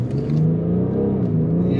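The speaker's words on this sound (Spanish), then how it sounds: "Y ese es el sonido que está haciendo este coche, que es brutal" A BMW 750d in Sport mode accelerates hard, its engine giving a loud, close, sustained low growl that holds steady over a couple of seconds, with no talking.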